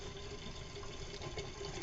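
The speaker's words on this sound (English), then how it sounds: "First we're going to rack some into this gallon jug" Homemade Concord grape wine flows steadily through a siphon into a glass gallon jug, a continuous close gurgling pour with no voices.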